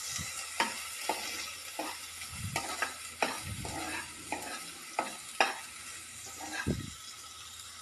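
Green garlic and ginger paste sautéing for dal makhani sizzles steadily in the pan while a spoon scrapes and stirs it with repeated, uneven clinks and scrapes; no talking.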